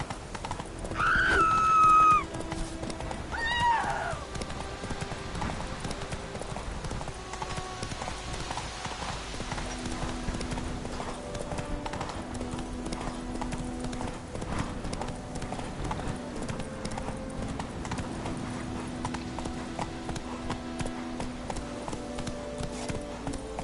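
Roach the horse gallops in The Witcher 3, a steady rapid clip-clop of hooves throughout with a short whinny near the start and game voices speaking over it.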